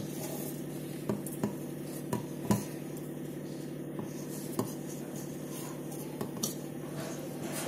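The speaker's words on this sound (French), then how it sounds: "on va ajouter le chocolat petit à petit en mélangeant" Melted chocolate stirred little by little into batter for a chocolate and courgette cake, a spoon scraping and tapping against the bowl in irregular clicks over a low, steady background, no talking.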